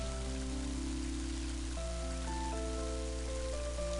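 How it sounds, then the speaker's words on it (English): Steady broadband rain hiss from the video game Mother 3 fills the scene, with sustained musical tones and a low hum layered over it; no talking. "It is now raining."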